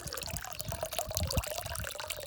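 Warm water gushes and splashes steadily out of a pipe fitted with a sensor, close by, with a constant bubbling, trickling flow and no voices.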